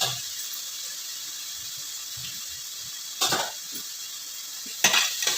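Onions and tomatoes sautéing in a pan for dhaba-style masoor, a steady close sizzle with two sharp stirring scrapes of a spoon against the pan, no talking.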